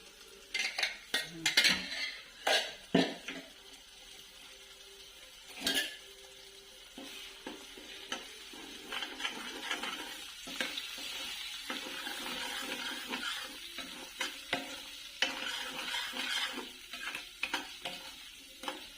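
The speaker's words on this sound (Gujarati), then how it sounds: "હવે આપણે આને થોડી વાર સાતડવા દઈશું" Puree gravy thinned with water sautéing in a pan, a soft bubbling sizzle under repeated metal spoon clanks and scrapes against the pan, loud bursts early then a steadier stirring rhythm.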